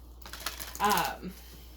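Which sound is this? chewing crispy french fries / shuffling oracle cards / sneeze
shuffling oracle cards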